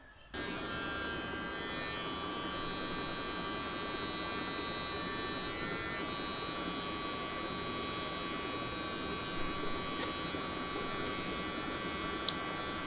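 A steady electric buzz from a Veet Sensitive Touch electric trimmer cutting body hair runs continuously close to the microphone, with no talking, holding an even drone throughout.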